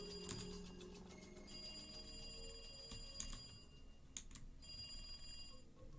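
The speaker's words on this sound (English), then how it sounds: "At that point, the phone rang." A telephone rings in the Higurashi: Minagoroshi video game, a bright electronic bell tone repeating in short bursts with brief gaps, fairly quiet and heard alone.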